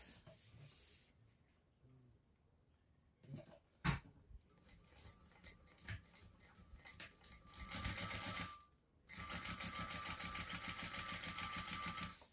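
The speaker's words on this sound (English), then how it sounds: "I'll do another row of stitching from this edge 1/8 inch up." A sewing machine stitches a row along the edge of a fabric shoulder bag, with short scattered bursts of needle rattle, then a steady, fairly close run of rapid stitching at the end, with no talking.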